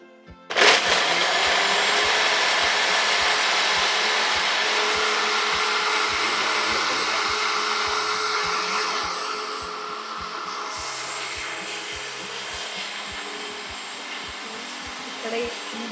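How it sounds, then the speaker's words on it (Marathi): A kitchen mixer grinder runs loud and steady for most of the stretch, a dense whirring roar that starts abruptly and slowly eases in strength toward the end. "तू बघ ना मी लावते मिक्सर"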